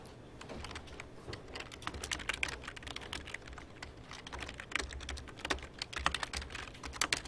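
Computer keyboard keys pressed in quick irregular bursts of clicks and taps, fairly faint and close, with no one talking.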